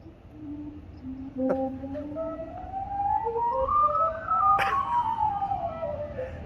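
Airy, whistling steam-organ tones from a steamboat's calliope slide up and down in a slow tune, carrying across open air in New Orleans with a constant low rumble beneath.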